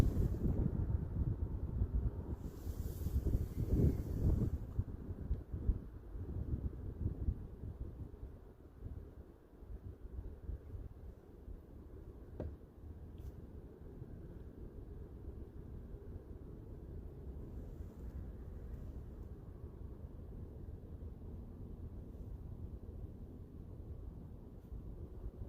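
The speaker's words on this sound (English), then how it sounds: "I wish that wind would make up its mind." Wind gusting over a lake during kayak fishing in Indiana, a steady broad rushing roar buffeting the microphone, strongest in the first few seconds and then settling into a constant low blustery noise with no talk.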